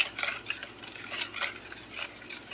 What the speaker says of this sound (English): now I'm gonna whisk it together